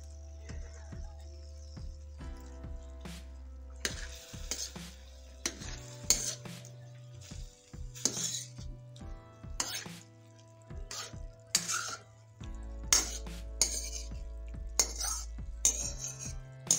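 Green chillies fry with chicken in a karahi: metal utensils clink and scrape against the pan in irregular bursts over a soft sizzle and a low steady hum, with no talking.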